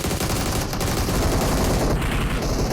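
Dense gunfire from the mobile battle royale game PUBG Mobile, a loud, continuous stream of rapid automatic shots and overlapping bursts filling the whole stretch without pause.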